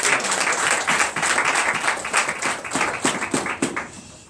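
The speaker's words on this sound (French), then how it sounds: "Donnez l'acclamation à Jésus." Applause from a church congregation during a Sunday worship service, a dense burst of many hands clapping steadily throughout, fairly loud and close, with no speech over it.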